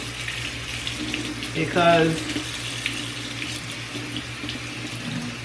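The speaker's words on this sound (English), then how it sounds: "this is the easy way to wash it," Tap water runs steadily into a kitchen sink while ackee or jackfruit is rinsed, with a brief louder splash and gurgle partway through and a short spoken word.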